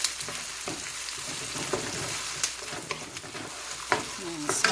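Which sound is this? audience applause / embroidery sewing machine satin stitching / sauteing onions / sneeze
sauteing onions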